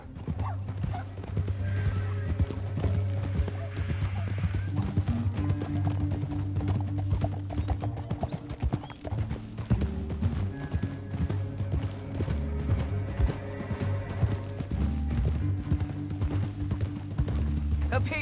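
Steady clip-clopping hooves of horses in the video game Red Dead Redemption 2 keep a continuous rhythm, with an occasional whinny, under a low ambient hum and game-like background.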